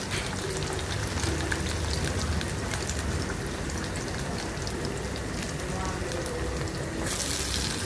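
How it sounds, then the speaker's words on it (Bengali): Pakoras of water spinach with khesari and masoor lentils fry in hot oil, giving a steady, dense, close sizzle that crackles evenly like rain throughout, with no voices. "আর এখানে দেখো পাকোড়া ভেজে নিচ্ছি কলমি শাক দিয়ে"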